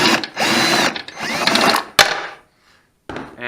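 A power tool with an extender backing a screw out of a Polaris Scrambler 500 ATV, loud close whirring in two bursts, then a sharp clank, a silence, and a short final buzz.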